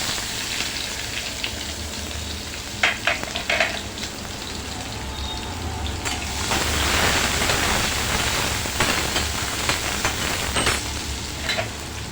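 Crushed garlic and onion sizzle in a hot pan with cumin for a Khandeshi wheat-flour ukadpendi, a loud continuous frying hiss that swells midway, with a few clinks of stirring.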